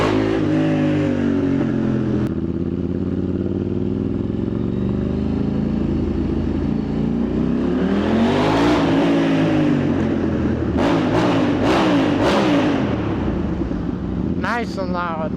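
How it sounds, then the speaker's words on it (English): Motorcycle exhaust revving loudly inside a tunnel, a continuous roaring engine drone that swells and echoes, rising to a peak midway, with sharp throttle blips and pops near the end. "Did someone say tunnel exhaust?"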